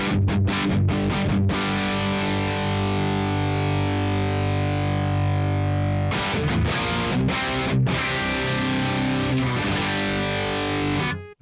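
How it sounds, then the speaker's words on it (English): Electric guitar played through a Headrush rig on a Mesa Boogie amp model, loud and heavily distorted, with sustained chords ringing for several seconds between bursts of choppy, palm-muted strums. "sounds like a Mesa Boogie to me"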